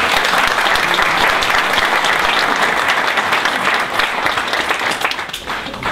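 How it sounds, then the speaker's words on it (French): Loud, sustained applause from a large crowd at a New Year's address event, steady throughout and tapering slightly at the very end. "Je vous demande de les applaudir pour les remercier"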